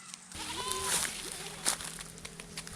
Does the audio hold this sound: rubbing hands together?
no